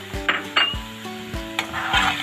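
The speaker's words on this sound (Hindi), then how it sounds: "आलू डाल के मैं इसे 1 से 2 मिनट तक भूनूंगी" Potatoes fry in a spiced masala in a pan with a steady sizzle, while a spoon repeatedly stirs and scrapes against the pan in several distinct clattering strokes.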